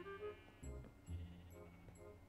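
Sheep bleating in the Minecraft video game, several short, quavering bleats in succession, quiet and clear with no talk over them.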